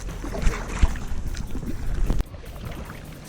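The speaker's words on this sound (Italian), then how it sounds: "Però è una barca a remi, tranquilla, niente rumori molesti di motore a scoppio." A kayak glides on Lake Varese with no engine, soft paddle splashes and water sloshes coming in irregular strokes against light wind buffeting the microphone, with a couple of sharper knocks.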